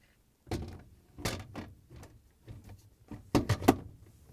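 A new Samsung top freezer shelf, part DA97-08368A, slid into a fridge freezer: a series of plastic clicks, scrapes and thunks in irregular bursts, close and clear, ending in a quick cluster of sharp snaps.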